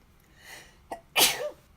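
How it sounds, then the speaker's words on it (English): A single sneeze: a soft breathy intake and a short catch, then one sharp, loud, close explosive burst that trails off quickly, with no speech. "Gonna sneeze."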